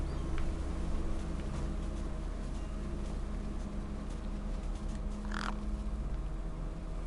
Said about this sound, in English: No way I was going to get between those birds and their feast.